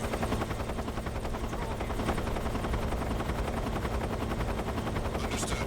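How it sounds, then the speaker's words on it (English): A helicopter hovers close by in the stealth game Metal Gear Solid 3, its steady, loud rotor roar pulsing without a break for the whole stretch. "It's been so loud here with a helicopter right next to me."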